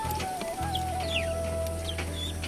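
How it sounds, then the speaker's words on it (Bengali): Chinese chickens cluck softly inside a cage, giving a few short calls over a steady low hum in a quiet indoor space. "এগুলো হচ্ছে চাইনিজ মুরগি"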